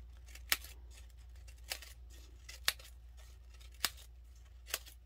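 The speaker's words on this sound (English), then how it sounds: "So I just took my little cutter bee scissors." Small cutter bee craft scissors snip through crepe paper, fringing a paper medallion for a Halloween ornament; five crisp, close cuts land at roughly even intervals over a quiet room hum, with no talking.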